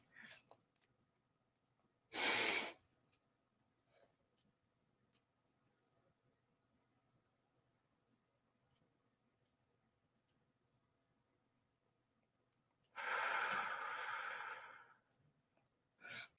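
Paced breathing in a meditation exercise: a short loud breath, a long quiet hold, then a longer, heavier exhale released close to the microphone, with faint ticks in the stillness between.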